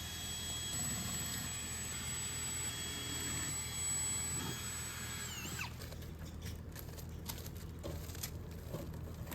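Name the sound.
power drill drilling holes for wall anchors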